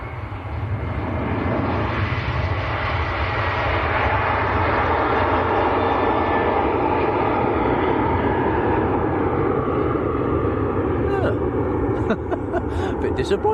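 An Aer Lingus Airbus A330 bound for New York JFK roars down the runway on its takeoff roll and rotates, a loud, steady jet engine rumble filling the whole stretch, with a voice speaking over it and brief clicks near the end.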